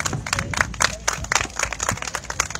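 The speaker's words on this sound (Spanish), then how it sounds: "Un fuerte aplauso para ustedes" Audience applauding dancers at an outdoor breast cancer awareness event in Piriápolis, with sharp, irregular hand claps at moderate loudness.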